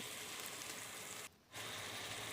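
Spices frying with onion, ginger and garlic paste in a pan, a steady soft sizzle throughout that drops out briefly for a moment before resuming, faint and even with no talk.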